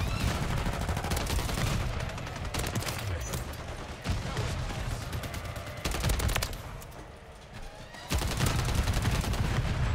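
Rapid, loud bursts of gunfire from a Striker weapon in the video game Modern Warfare 3, sustained automatic fire broken by short pauses, dense and close.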